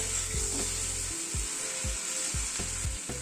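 Onions frying lightly in a pan give a continuous bright sizzle, close and even, while soft low knocks from stirring land every half second or so. No one speaks.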